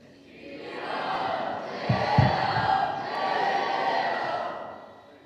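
A crowd gathered at a Ramcharitmanas discourse raises a chant of 'Shri Ram Jai Ram' together, a sustained roomful of voices that swells, briefly peaks, then carries on steadily to the end.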